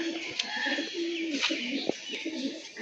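A male Moko Kalsira pigeon coos in low, repeated rolling calls, close by, with a few faint chirps and rustles in the background.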